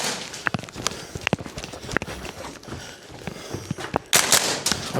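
A VFC G36C gas blowback airsoft rifle fires several sharp, snappy shots at irregular intervals, close and punchy, with faint rattling between them and a louder burst of noise near the end.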